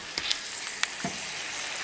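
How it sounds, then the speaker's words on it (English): Mushrooms and garlic frying in a pan: a steady, fairly quiet sizzle with a few soft pops and crackles standing out, and no talking over it. "And here we have the mushrooms. I just put a bit of garlic in, frying off."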